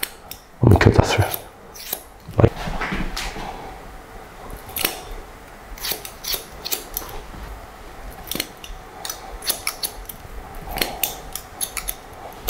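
Scissors snip through long red hair during a haircut, a few crisp close cuts standing out over quiet room noise, with faint handling sounds between them.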